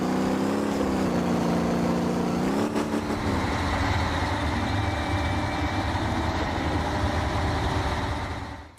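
A truck engine drives off-road through extreme terrain in the video game SnowRunner, a loud continuous rumbling drone with a shifting pitch early on, then a steady heavy roar that fades at the very end.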